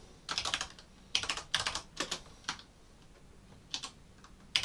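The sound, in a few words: typing on a computer keyboard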